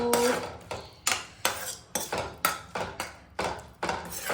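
A spoon stirs curd into a capsicum gravy, clinking against the bowl in a quick series of about ten sharp, close taps.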